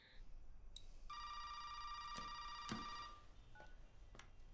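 A placed telephone call rings faintly on the line with a long steady ringback tone and a few short clicks and blips around it, quiet and alone.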